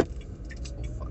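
A Dacia Spring electric car pulls away with a steady, low road and tyre rumble and a soft whine, fairly close and continuous, with no voices.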